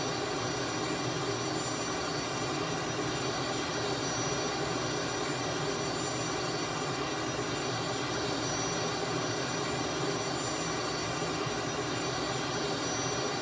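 Simulated jet engine of a Canadair CT-114 Tutor in a VR flight simulator, a steady, loud whining roar that holds constant throughout with no talk over it.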